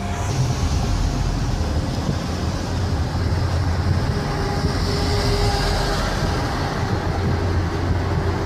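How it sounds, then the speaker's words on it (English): A train rolls past within a dense urban transit-oriented housing development, a steady loud rumble with clattering wheels and low engine drone lasting throughout, no voices. "And there's the train right there."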